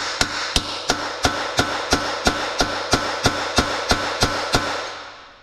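A hammer strikes a seized, rusty exhaust downpipe on a Nissan Z31 in about fifteen steady metallic blows, each a sharp close knock in an even rhythm.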